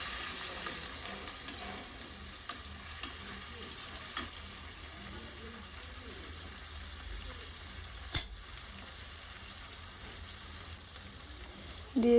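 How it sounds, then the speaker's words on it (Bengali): Masala for a country chicken curry being fried down with a splash of water in a pan, giving a faint, steady sizzle with soft stirring scrapes throughout, and no voices. "আবারও আমি একটু জল দিয়ে কষিয়ে নিচ্ছি।"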